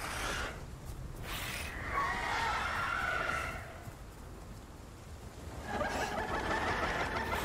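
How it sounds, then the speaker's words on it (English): A flying bird in the dinosaur survival game Path of Titans gives two bursts of squawking calls, one in the middle and one near the end, over soft rain-like background noise. "I hear a flying bird."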